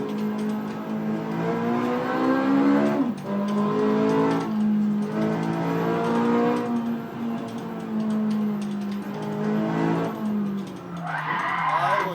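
Car tires squeal in long, pitched wails as a car is driven hard on a race track, with several drawn-out screeches separated by short breaks over a steady engine drone.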